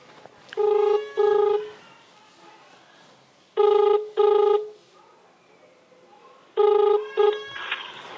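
Telephone ringing for an incoming call, three separate bursts of a repeating electronic double ring, loud and close, with quiet gaps between them and no talk over the rings.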